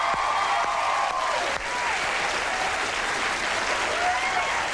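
Late-night talk show studio audience claps steadily and warmly, a sustained dense applause that briefly dips midway then carries on at an even level, with faint voices beneath.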